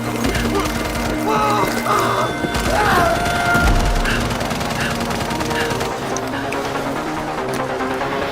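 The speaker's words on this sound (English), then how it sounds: "Open fire! Open fire!" Gunfire in a PC game trailer, with bursts of shots and heavy booms crashing over a busy battle scene while voices shout through the noise.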